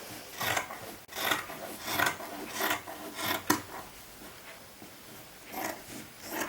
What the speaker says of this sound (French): et je vais découper